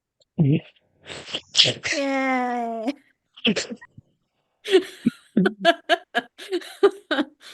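A single sharp human sneeze near the start, followed by a drawn-out vocal sound and then chatty speech and light laughter from people close by.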